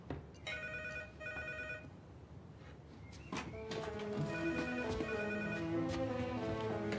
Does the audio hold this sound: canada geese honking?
no